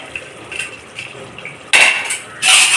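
A metal spoon scrapes and clanks against the inside of a pressure cooker while chicken biryani is mixed, a few soft stirs followed by two louder clattering scrapes near the end, no voices.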